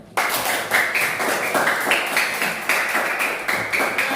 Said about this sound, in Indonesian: Beri tepuk tangan buat semuanya.